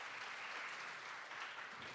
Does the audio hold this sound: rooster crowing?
no